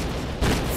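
A grenade explosion in S.T.A.L.K.E.R. Shadow of Chernobyl: a single short, heavy boom that bursts in midway through and lingers briefly over a low rumbling game background.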